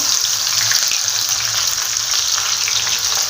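Onion frying in very hot oil for a vegetable pulao, a steady close sizzle with broad hiss throughout, loud and continuous with no talk.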